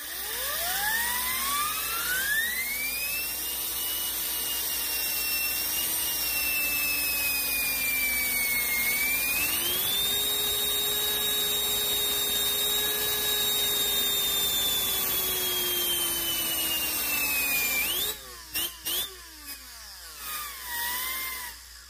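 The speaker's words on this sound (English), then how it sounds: "our new turbine is ready to hit the dyno" A brand-new turbine engine in a pulling car winds up on a dyno, a loud close whine rising in pitch over the first seconds, holding a high steady scream, then cutting out with a few sputtering bursts near the end.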